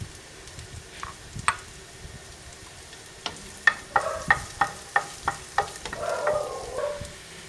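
Chopped garlic and onions sauté in a pan over a soft, steady sizzle, broken by a quick run of regular spatula taps and scrapes against the pan.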